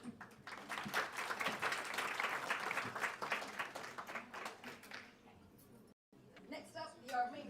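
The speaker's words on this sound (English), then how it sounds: "I applaud you." Audience applause at a charity's tenth-anniversary gala fills the hall, thick and sustained for several seconds before thinning out; after a brief drop to silence, a voice speaks over the last scattered claps.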